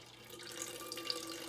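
Freshly made celery juice being poured, a brief steady trickling stream of liquid filling a container, close and fairly soft.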